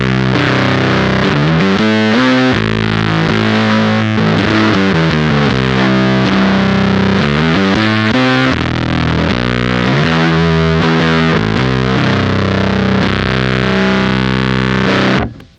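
A heavily distorted electric guitar plays through the Cat Box Customs Bean Machine, a Harmonic Percolator-style pedal set to its no-diode position, giving loud, thick sustained chords and riffs that continue without a break until a sudden stop.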